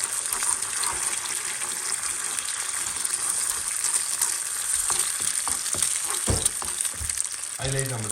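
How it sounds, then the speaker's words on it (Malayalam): Two eggs frying in oil in a pan: a steady, loud sizzle and crackle throughout, with a few knocks and clatters near the end. "പാനിലേക്ക് എണ്ണ ഒഴിച്ചു. അതിലേക്ക് ഒരു 2 മുട്ട"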